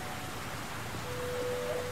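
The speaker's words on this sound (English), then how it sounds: "Well, I mean, it's raining, so." Steady rain in the video game The Black Mirror III, a dense even hiss that holds through the moment with no other sounds standing out.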